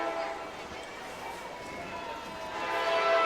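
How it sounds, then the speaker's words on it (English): A train rolls through during a parade, a steady rumbling mixed with a sustained horn-like tone that swells toward the end, with voices faintly underneath. "trains rolling through today"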